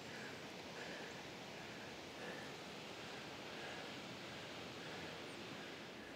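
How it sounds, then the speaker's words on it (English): Foster Falls waterfall, heard from an observation platform above, gives a faint, distant, even hiss of falling water that holds steady throughout with no voices. "you should be able to see the waterfall down there."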